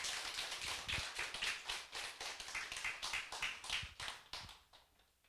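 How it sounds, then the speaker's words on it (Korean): A church congregation claps in welcome for a visiting pastor at a Sunday afternoon service, quick rhythmic clapping in unison, moderately faint, fading out toward the end. "우리 박수로 우리 목사님을 환영하겠습니다."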